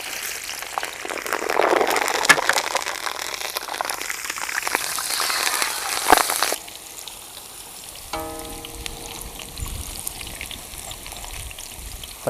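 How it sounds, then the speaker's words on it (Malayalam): Green chillies sizzle in hot coconut oil while a chicken fry is cooked, a loud dense crackling hiss for several seconds that then drops to a quieter simmer. "ആദ്യം നമുക്ക് കുറച്ച് പച്ചമുളക് വറുത്തെടുക്കാം."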